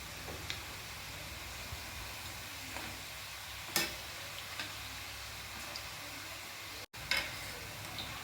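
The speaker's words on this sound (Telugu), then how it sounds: "వెంబడే దాన్ని ఫ్లిప్ చేయకుండా కొంచెం టైం తీసుకొని 2 sides బాగా ఫ్రై చేయండి." Murukku dough frying in hot oil gives a steady, low background sizzle with soft crackles and a few brief pops, fairly faint and continuous with no talking.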